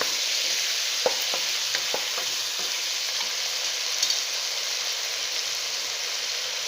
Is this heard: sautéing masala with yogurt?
yes